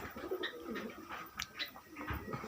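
Domestic pigeons kept for sale coo softly in short repeated phrases, close by, with a few chirps from other caged birds mixed in over a steady background.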